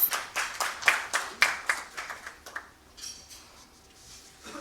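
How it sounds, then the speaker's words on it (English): Audience clapping for a session moderator at a climate action event, a few hands making distinct, rhythmic, fairly close claps that thin out and fade after a couple of seconds. "A round of applause for Bhaskar, please."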